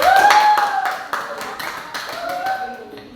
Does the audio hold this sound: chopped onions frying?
no